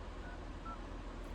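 Two short, faint dialing beeps sound over a low background hiss.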